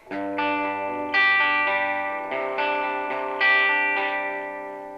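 Electric guitar through a PRS SE 50 amp set right at the edge between clean and distortion, strumming a series of sustained chords every second or so, each ringing out with slight grit and a shimmering effect.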